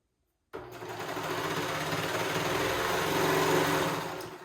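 A sewing machine stitches a fabric waistband closed into a loop for shorts, starting abruptly after a short silence and running in one continuous, close, steady whir.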